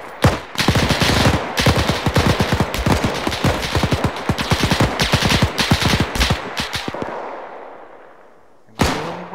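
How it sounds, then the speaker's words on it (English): Rapid machine-gun and rifle fire in a WW2 video game, dense continuous bursts of sharp cracks, loud and close, tapering off before a final shot. "Shooting."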